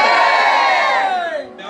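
A church congregation at an evangelistic service in San Miguel, El Salvador shouts amen together, one loud sustained massed cry that fades at the end.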